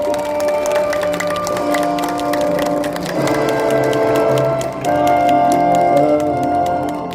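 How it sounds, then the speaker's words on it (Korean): A ceremony crowd at a commemoration of the Incheon landing claps loudly and continuously, crackling applause swelling over sustained musical tones in the background. "이왕 치는 박수 크게 한번 해주시기 바랍니다."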